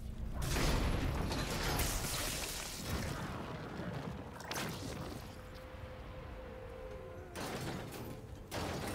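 Heavy elevator machinery in Remnant 2 grinds and creaks through a long mechanical run, with loud booming clanks near the start and end and a steady metallic hum in between, no voices.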